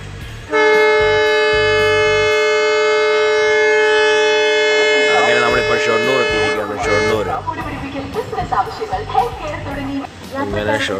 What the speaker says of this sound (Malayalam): അങ്ങനെ ഷൊർണൂരിൽ നിന്ന് ട്രെയിൻ വിടുകയാണ്.